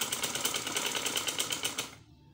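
Sewing machine stitching a kurti, a fast even mechanical whir with a quick rattling pulse close by, running steadily and then stopping abruptly.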